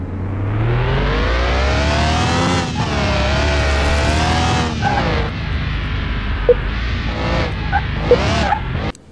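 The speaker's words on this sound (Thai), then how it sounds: "เดี๋ยวเทสรถลูกค้าเลยครับ" A customer's car on test drive in an old car-repair workshop video game, its engine revving loud and continuous, pitch sweeping up and down through gear changes, with brief tire squeals near the end.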